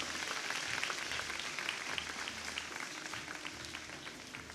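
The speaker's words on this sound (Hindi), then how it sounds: "भरपूर तालियां।" Sustained applause from an audience at a Ramadan iftar television transmission, many hands clapping steadily in a reverberant space with a constant low hum beneath.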